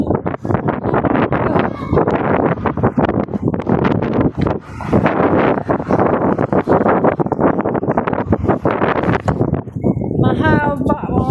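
Strong outdoor wind buffets the microphone in loud, continuous rumbling gusts while people talk throughout.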